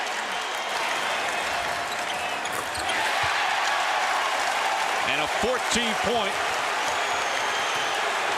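Boston Celtics fans cheer in a basketball arena during a 2002 playoff game against the Nets, a loud, dense crowd roar that swells midway, with a commentator talking over it and brief whistle-like tones near the end.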